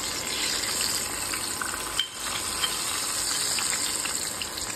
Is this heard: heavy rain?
no